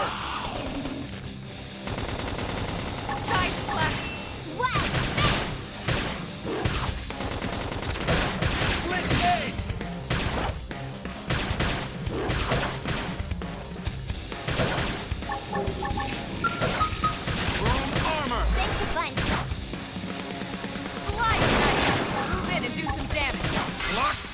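Video game combat in Xenoblade Chronicles X brings sustained bursts of gunfire and rapid weapon fire, mixed with crashes and booms throughout under a busy, loud battle soundscape, with character voices calling out over it.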